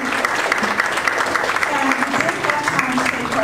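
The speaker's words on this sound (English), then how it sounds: "A round of applause for you." An audience claps in a steady, dense round of applause at a talk, filling the whole short stretch at even loudness.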